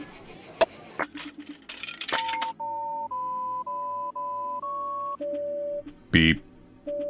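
A payphone dialed in a horror video game: a few button clicks, then a run of separate keypad tones stepping up in pitch, a pause, one more tone and a short electronic burst, all close and clear.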